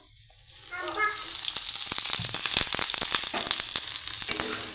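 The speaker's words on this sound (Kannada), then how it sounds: "ಹಾಕ್ಕೊಂಡು ಚೆನ್ನಾಗಿ ಫ್ರೈ ಮಾಡ್ಕೋಬೇಕು" Onion and garlic fry in hot oil for a peanut chutney, a steady close sizzle with sharp crackles and spatters throughout, after a quieter start and no talk.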